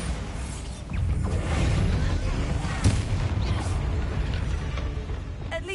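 A Bombarda blasting spell goes off in a Harry Potter video game inside a tomb, a sustained roaring, rumbling explosion with a sharp crack near the middle, loud throughout and under light ambient noise.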